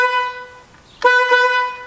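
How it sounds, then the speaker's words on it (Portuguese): Car horn honking in a workshop beside a Defender 110 and a Celta 1.0, two bright, loud blasts close by, the second after a short pause. "E você buzinando aqui."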